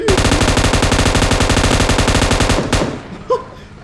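Heavy gun in the mobile battle-royale game PUBG Mobile fires a loud, rapid, continuous burst for under three seconds, then cuts off, leaving a brief faint thud.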